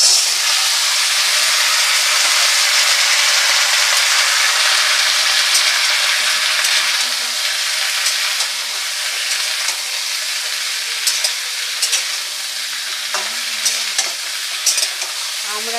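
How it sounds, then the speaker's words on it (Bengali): Hog plum pieces sizzle loudly and continuously in a hot pan, with a dense frying hiss and intermittent stirring scrapes and taps, slightly easing partway through. "আমড়াটা খুব ভালো করে কষে নিতে হবে।"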